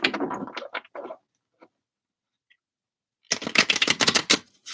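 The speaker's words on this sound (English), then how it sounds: "Oh, I think we need another shuffle there." Tarot cards being shuffled by hand, riffling in two dense bursts of rapid papery flutters at close range, separated by a near-silent pause.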